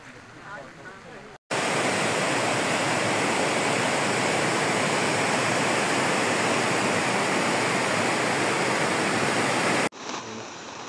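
Floodwater rushes loudly and steadily across fields that have become a sea in a heavily flooded village, a dense continuous roar close by that starts abruptly and cuts off near the end.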